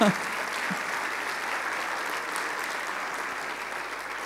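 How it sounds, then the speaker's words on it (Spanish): Broad, continuous applause from a large audience at a family congress, steady throughout after a brief voice at the start, heard from a distance in a big hall. "deberían de aplaudir y emocionarse"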